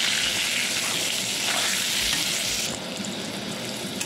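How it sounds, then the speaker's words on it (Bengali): Eggplant fries in a pan for a spiced yogurt-eggplant dish, giving a steady, close broadband sizzle that runs throughout and drops slightly in level near the end. "ভালো করে ভেজে নিই।"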